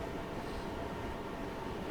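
A class 314 electric train running in Train Sim World 5 on the Cathcart Circle line toward Glasgow Central, a steady, loud, continuous rumble and rail noise with no talk.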